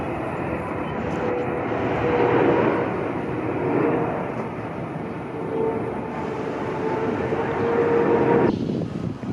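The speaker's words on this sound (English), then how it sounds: "And a jet." A jet aircraft passing over a stadium construction site, a loud continuous roar swelling and fading in waves before cutting off near the end.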